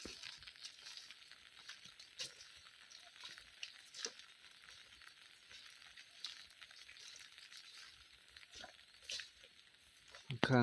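Rain patters steadily on foliage and grass in a forest garden among sugarcane fields in Sakon Nakhon, Thailand, a soft continuous hiss with scattered sharper drops, faint and close.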